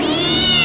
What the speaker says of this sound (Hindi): ओ बिल्लियों छोड़ो,